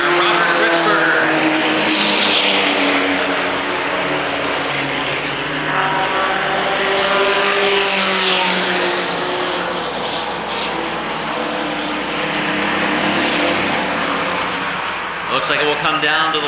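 Race cars circling an oval track in a lead battle amid slower traffic, loud continuous engine roar rising and falling as they pass, with an announcer talking over it throughout.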